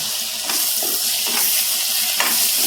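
Green chilies and curry leaves sizzle in hot oil with onion and garlic while being stirred, a close, steady frying hiss broken by a few scraping stirs.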